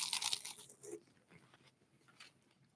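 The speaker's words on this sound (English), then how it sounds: "But that is a crunchy, loud crunch there." Crunchy toast is bitten into with a loud, close crackling crunch at the start, followed by fainter scattered chewing crackles that fade out.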